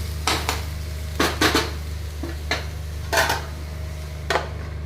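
Beetroot thoran with ground coconut paste stirred and turned in a pan, several sharp scraping clinks of the spoon against the metal in short bursts over a low steady hum.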